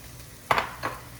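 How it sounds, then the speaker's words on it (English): Red and green peppers and snow peas sizzle and get stirred in a hot pan, a brief close scrape and hiss in two quick strokes over a low background. "we're gonna give this a quick saute"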